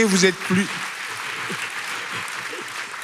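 Church congregation applauding during a sermon, a steady wash of clapping after a man's brief spoken words at the start, moderately loud and even.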